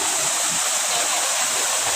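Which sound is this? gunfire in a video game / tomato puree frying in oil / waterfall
waterfall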